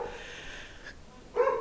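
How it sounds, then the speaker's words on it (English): Dog barking indoors during a home tarot reading, two short, fairly faint barks separated by a brief pause. "I'm sorry about the dog."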